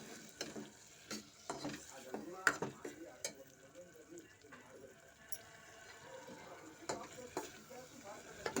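Vegetables and freshly ground masala being stirred in a pan for a vegetable palya, giving repeated scraping and clattering strokes over a soft sizzle, close and moderately loud.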